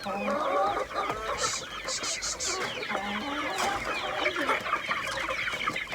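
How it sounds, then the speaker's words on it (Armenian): Several chickens cluck and squawk close by in overlapping bursts, with a brief higher call or two among them. "այդ դուրս եկած հավերը, մնիմա հաշվեմ, տենամ լրիվս տեղեն"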